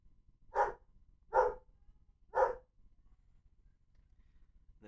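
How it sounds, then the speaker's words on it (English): Three distinct dog barks at a steady pace, clear but somewhat distant, against a quiet background. "the barking you can hear is my aunt's dog that I'm having to look after."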